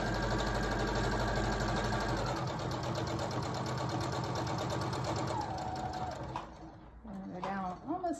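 Up close, a sewing machine runs continuously while stitching a fabric face mask, a steady mechanical whir that slows and breaks into a few short bursts near the end.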